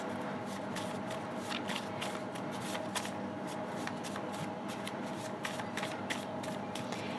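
Tarot cards are shuffled in a steady run of soft, riffling flutters and quick papery slaps, close and quiet, with no voice over them.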